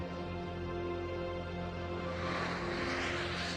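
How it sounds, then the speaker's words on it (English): Airplane flying overhead in Shenmue video game footage, a steady engine drone over wind effects and sustained musical tones, growing brighter and hissier toward the end. "With the airplane as well."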